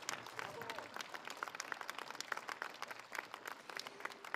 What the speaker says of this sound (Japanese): 今一度皆様どうぞ盛大な拍手をお願いいたします